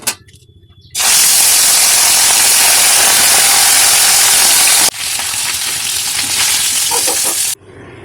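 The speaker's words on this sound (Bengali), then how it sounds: "মাছ ভাজা হয়ে গেছে" Fish pieces fry in hot mustard oil in a wok for a Bengali fish curry, giving a loud, sustained, close sizzling hiss that starts abruptly, dips briefly midway, then continues before cutting off.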